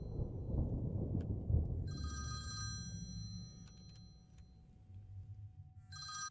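A telephone rings in the horror video game Faint Call, two bursts of shrill electronic ringing over a low rumbling, stormy ambience, fairly faint.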